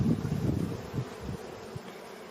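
Honey bees hum in a low, wavering drone during a hive inspection with smoke in use, the buzz fairly quiet and close, swelling and fading in small pulses without any talk.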